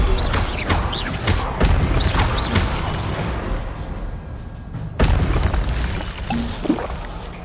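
The Incendio fire spell is cast in the game Hogwarts Legacy, producing loud roaring whooshes and bursts with a sharp blast near the start and another midway, layered over a busy game soundscape.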